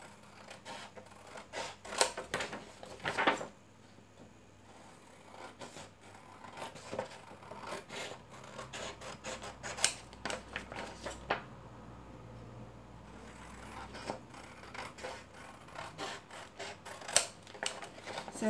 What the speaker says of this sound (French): je vais le découper comme je fais d'habitude